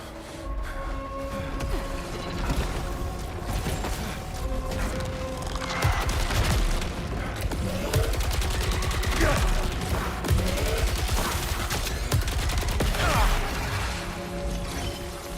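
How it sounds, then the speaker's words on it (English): Gunfire in the video game Saros is heard as scattered shots and crashes over a steady, busy game soundscape with tonal music and mechanical noise, moderately loud and continuous. "What the fuck is shooting at me right now?"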